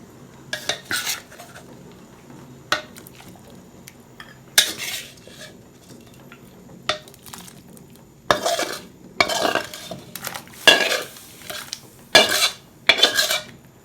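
Metal utensils scrape and clatter against a pan in bursts, scooping stir-fried pork into a pot of water, with stirring sounds and occasional clinks, close and fairly loud, no voices.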